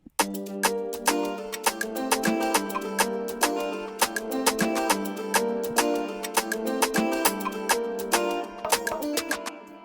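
An Afrobeats beat built in FL Studio plays steadily, with punchy drums, sustained tonal chords and a shaker ticking in a regular, rhythmic groove throughout.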